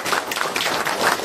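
Audience applause for a village residents' association that donated a health sub-centre, heard as a dense, steady wash of many hands clapping close by, continuous for the whole moment with no speech.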